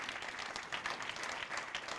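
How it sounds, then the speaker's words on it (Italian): Audience applause for a singer at a Fête de la Musique concert broadcast, a dense steady clapping from a modest crowd sustained throughout at moderate level. "applaudissez-le bien fort"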